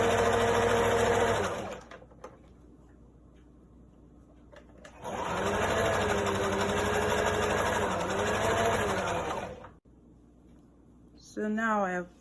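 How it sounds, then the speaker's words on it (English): A sewing machine sews zigzag stitches to join stretched elastic onto a skirt waistband, running in two steady whirring bursts separated by a quiet pause, close and fairly loud, with a short bit of voice at the end. "So right now I'm joining my elastic with zigzag stitches, and I'm stretching it as I go."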